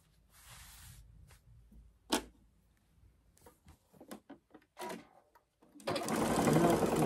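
Sewing machine stitching a seam on a summer bag organizer, with scattered soft handling clicks and rustles of fabric being lined up before the motor starts a loud, steady, close whir at the end.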